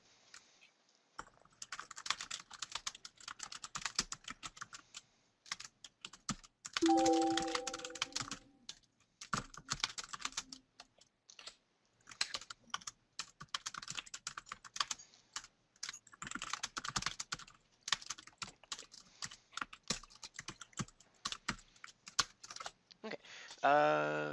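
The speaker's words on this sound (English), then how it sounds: "I hear typing." Computer keyboard typing in bursts of rapid, fairly close key clicks, pausing now and then, with a brief voice and a short tonal sound partway through.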